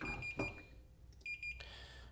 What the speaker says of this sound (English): different meters will have slightly different resistance values at which that'll beep